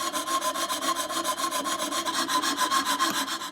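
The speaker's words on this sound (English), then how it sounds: "for the fret saw, you can get this diamond wire cutting, which means you can do really complex shapes" A fret saw fitted with diamond wire cuts through brass with a fast, even rasping stroke repeated many times in quick rhythm, close and steady throughout.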